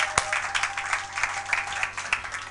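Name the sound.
congregation applauding in church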